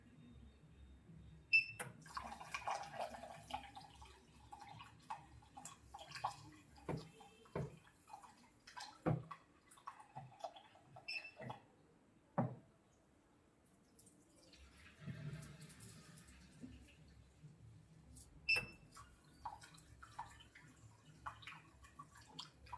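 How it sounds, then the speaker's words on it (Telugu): A slow trickle of water from a tap runs quietly in a home, with faint drips and splashes and soft handling noises coming and going. "వాటర్ చూడండి ఎంత స్లోగా వస్తుందో."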